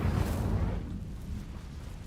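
Incendio fire spell cast in Hogwarts Legacy, a single whooshing, rumbling burst of flame that swells then fades, fairly soft and heard alone.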